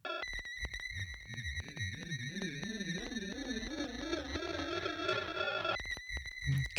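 High-pitched ringing tones from a Portal plugin's Glass Glitch preset, steady sonar-like pings over wobbling, warbling lower tones that rise and fall, quiet and continuous for several seconds before cutting off with a few clicks.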